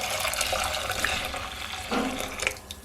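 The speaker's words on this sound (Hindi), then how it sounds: "और पानी को जो है वो छान लेंगे ताकि ये इमली के बीज वगैरह जो हैं इसमें से निकल जाएं" Tamarind water being strained through a strainer while making sweet tamarind chutney, a soft continuous trickling and splashing of liquid, fairly faint, with a slightly louder gush near the end and no talking.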